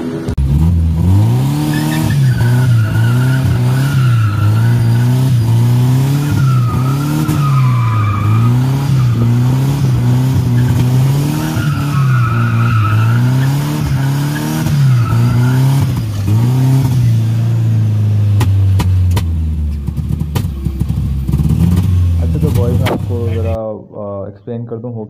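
A Toyota Corolla drifts through figure eights, its engine revving hard in repeated rising and falling cycles while the tires squeal, all loud and close, before a sudden cutoff near the end.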